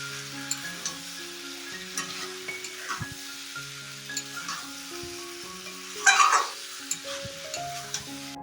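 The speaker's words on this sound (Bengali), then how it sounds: "ঢাকনা খুলে আবারও আমি ভালো করে কষিয়ে নিচ্ছি" A pumpkin, potato and drumstick curry is stirred in a pan, soft sizzling under repeated scraping and clinks of a spoon, with one louder metallic scrape midway; background music plays throughout.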